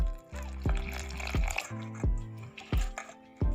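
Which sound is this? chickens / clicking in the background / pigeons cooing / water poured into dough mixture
water poured into dough mixture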